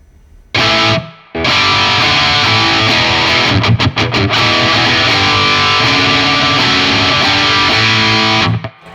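Distorted electric guitar played through an ENGL E670 Special Edition amp on its lead channel with a little reverb, loud sustained chords and riffs with a brief stop-start passage in the middle, alone without talk.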